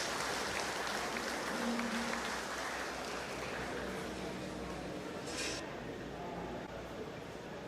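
Applause from the crowd at a beef cattle showmanship event as exhibitors leave the ring, a fairly faint, steady wash of clapping in a large space that runs throughout.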